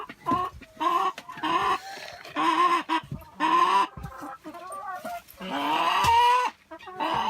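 Chickens cluck in a lively series of short and drawn-out calls close to the microphone, with brief pauses between bursts and no talking.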